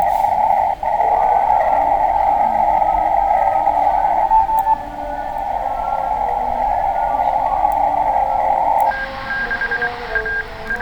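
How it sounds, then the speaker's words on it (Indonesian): Morse code played from a computer, a steady continuous beeping tone held for several seconds over faint background noise, then switching to a higher, thinner tone near the end. "Ini Morse nih, mau dengerin Morse."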